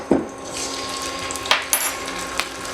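A metal pan is set on a kitchen stove and oil and ginger garlic paste go in. A sharp clank opens, a few lighter metallic clinks follow over a soft background hiss, and no one speaks.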